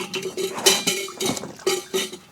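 Metal dishes, pots and utensils clank and scrape against each other as they are scrubbed and washed in a home kitchen, giving a run of irregular, close clinks and knocks.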